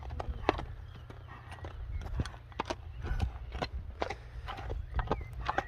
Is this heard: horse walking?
yes